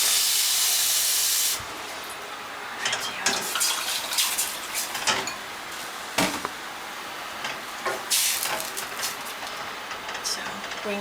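Liquid standing in for stock is poured into a hot pan, giving a loud steam hiss up close at first, then quieter crackling sizzle with sharp spits and bursts that come and go.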